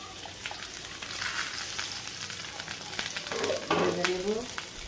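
Onion and garlic frying in oil in a pan, a soft, close sizzle with a few stirring scrapes and clinks that grow a little louder near the end.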